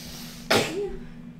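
A single sharp, explosive sneeze bursts out near the microphone, then trails off into quiet room noise with a low steady hum.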